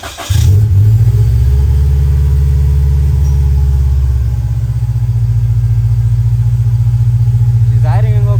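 Supercharged Scion FR-S engine cranks and catches, then settles into a steady, loud, close idle with a deep rumble throughout; a brief voice cuts in near the end.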